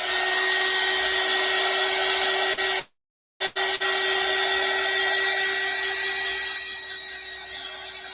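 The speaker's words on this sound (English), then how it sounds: "I'm going to hit this with my heat gun real quick" Heat gun blowing steadily on a decoupaged papier-mâché piece, a loud continuous whirring hiss with a strong steady tone, cut off briefly once, then resuming and fading slightly toward the end.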